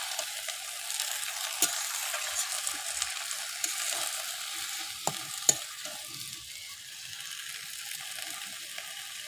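Salted Malabar spinach (poi saag) being stirred in a pan gives off a faint, steady sizzle, with occasional soft scraping taps of the spoon against the pan.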